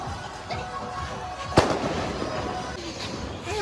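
Diwali firecrackers and rockets go off outdoors, with one sharp loud bang standing out amid a background of distant crackling and whistling bursts, while voices murmur faintly.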